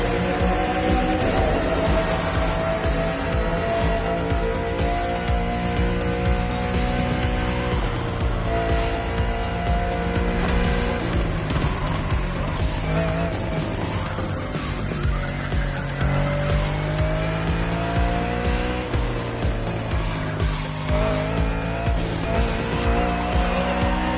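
A car racing downhill in The Crew Motorfest video game, with a loud sustained engine roar rising and falling through gear changes and tire squeal, continuous and close throughout.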